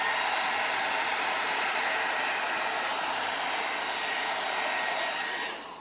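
A hairdryer blows steadily across acrylic paint on a 12x16 inch canvas during a Dutch pour, a loud, close, unbroken airy roar that holds level for several seconds before cutting off abruptly at the end.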